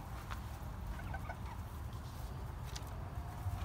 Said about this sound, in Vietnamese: Còn đây là mấy con gà của mình.